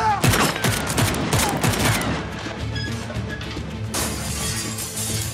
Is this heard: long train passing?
no